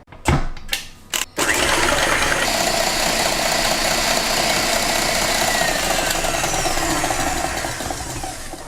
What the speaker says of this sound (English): Now whisk the egg whites until light and fluffy, until it comes to the soft peak.